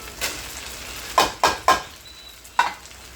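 Onions frying in a pan for taco spring rolls, a soft steady sizzle under a few sharp scraping stirs of a utensil, close and clear.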